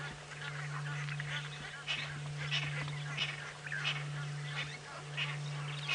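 Egyptian geese honk repeatedly in a loose, irregular series around an algae-covered area on a sunset safari drive, close and clear over a steady low engine hum.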